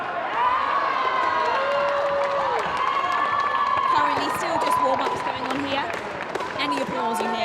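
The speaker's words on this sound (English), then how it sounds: "applause you hear is for the women's badminton." A sports-hall crowd at a women's badminton match claps and cheers steadily, with shouts rising above the applause and occasional bouncing and thuds, the sound echoing through the hall.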